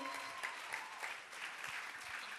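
A talk show audience gives a round of applause for a guest named Eugene, steady dense clapping heard a little distant and fairly soft, continuing throughout without speech.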